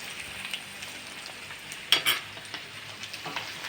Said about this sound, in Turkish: Güzelce salçasını da karıştırıyoruz.